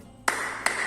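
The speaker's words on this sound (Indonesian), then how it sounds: "Jika saya menyebutkan kata malam, maka kalian tepuk 3 kali" Two sharp, close hand claps about 0.4 seconds apart in a quiet indoor classroom setting, each a crisp broadband slap with a short decay.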